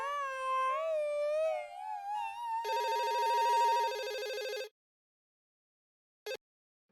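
Telephone ringtone on an outgoing call to an electronics company, a warbling electronic tone rising and repeating for several seconds, then cutting off, with one brief beep after a pause.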